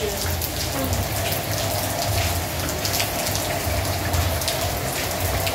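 Steady heavy rain falls on a surface, a dense continuous patter with nearby water splashing, loud and close and with no break.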